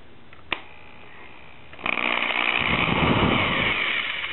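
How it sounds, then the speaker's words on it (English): A power drill bores a tiny hole into the back of a wooden picture frame, a single steady whirring run that starts sharply partway through and continues loud and close to the end, after a brief click. "I am going to just drill a tiny hole into this area."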